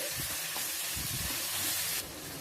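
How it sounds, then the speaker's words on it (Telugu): Marinated chicken frying with onion pieces in a pan, giving a steady loud sizzle and hiss with faint stirring scrapes underneath, easing slightly near the end. "ఈ చికెన్ని ఒక ఐదారు నిమిషాలు బాగా ఫ్రై చేయాలి"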